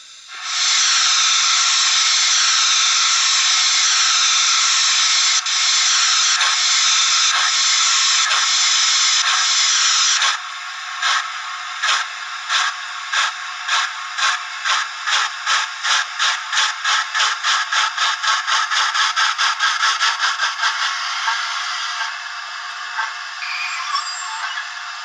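A Hornby R3284TTS model locomotive with an expensive decoder and a fairly average gearbox runs with a continuous hiss, then breaks into a rapid, regular pulsing chuff that speeds up and fades toward the end, with a faint mechanical whir underneath.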